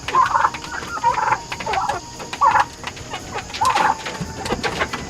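Farm chickens cluck and murmur in short repeated bursts nearby, mixed with outdoor background noise and occasional louder calls throughout.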